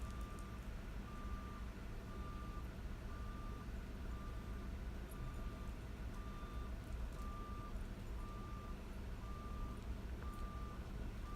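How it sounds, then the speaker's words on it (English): A dump truck unloading stone at a building site sounds a regular series of reversing beeps over a steady, low engine rumble, heard at a moderate distance and fairly faint. "I've never used a dump truck before this, so I wasn't sure how much I actually had to raise it for all the stone to come out."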